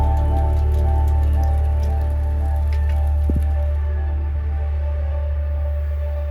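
Hail patters steadily and densely across a surface outdoors on a mountain trail, with a constant low rumble of wind underneath and one brief knock partway through.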